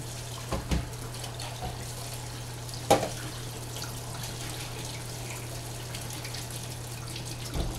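Tap water runs steadily over canned beans being rinsed in a sink, a constant close hiss with a few louder knocks and splashes from the can.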